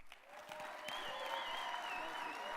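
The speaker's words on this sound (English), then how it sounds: "let's go ahead and give a real round of applause to Keith Tibbles." Applause from an event audience for a man being welcomed to speak, a steady broadband patter of many hands that swells and holds, with faint tonal whistles or feedback over it.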